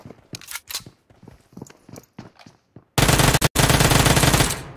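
Gunfire in the mobile battle royale game PUBG Mobile: sharp separate shots in the first half, then a loud, dense burst of rapid automatic fire that fills the second half, with one brief gap, and no speech.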